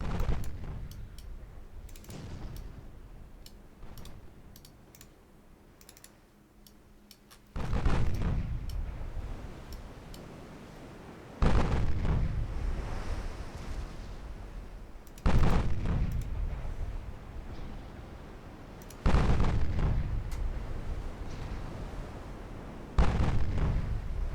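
Heavy naval gunfire in a video game, with 8-inch guns firing on unarmoured destroyers: five big booming blasts spaced a few seconds apart, each with a long rumbling decay. The first stretch is quieter, with a few lighter thuds.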